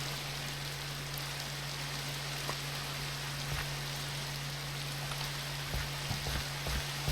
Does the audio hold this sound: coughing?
no